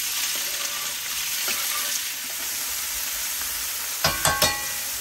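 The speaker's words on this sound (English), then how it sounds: "Mushrooms in that hot grease is going to sound a little bit like this." Black staining polypore mushrooms fry in hot grease in a black skillet, a steady close crackling sizzle with a few sharp pops near the end, no voices.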